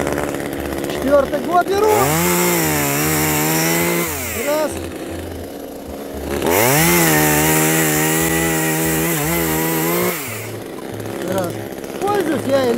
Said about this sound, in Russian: Пила заводится элементарно до сих пор.